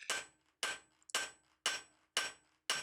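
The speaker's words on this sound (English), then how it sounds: "I'm going to start by hammering out the spring section" A hammer strikes a steel bar six times in a steady rhythm, drawing out the spring section of a pair of blacksmith's tongs. Each blow rings sharply up close, with short decays between hits.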